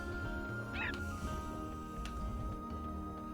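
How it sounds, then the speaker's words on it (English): A dog in the video game Chrono Cross gives a short yip and whimper over a continuous layer of game music, the barking brief and not very loud. "Your dog frightens me."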